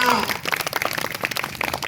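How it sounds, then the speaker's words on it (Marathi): Schoolchildren at a village school quiz contest clapping together, a dense burst of rapid handclaps close by that fills the whole moment, with voices mixed in. "शाबास टाळ्या"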